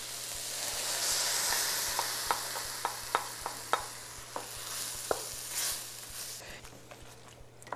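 Flour stirred into vegetable stock in a pan as a sauce begins to thicken: a soft bubbling hiss with a run of sharp spoon-against-pan clicks and scrapes in a loose rhythm, close up and without talk.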